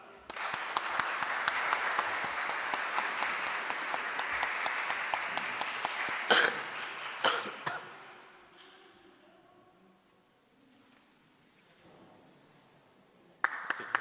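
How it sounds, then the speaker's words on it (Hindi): Loud applause from a Pakistani Urdu church community at a Christmas celebration in Belgium, a full, sustained roar of clapping that breaks into a few sharp claps, drops to near quiet, then flares again briefly. "प्लीज़ ज़ोरदार तालियों में"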